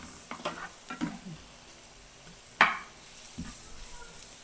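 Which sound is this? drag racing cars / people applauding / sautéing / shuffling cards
sautéing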